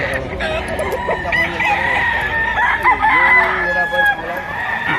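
A bullstag rooster at a Batangas poultry market crows loudly and close, one long drawn-out call filling the stretch over a steady background hum.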